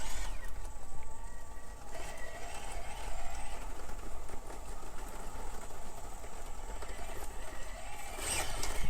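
A small LGRP Eliminator chassis SCX24 RC crawler with a Power Wagon body drives up an outdoor canyon course, its faint, steady electric motor whine running continuously under ambient background noise.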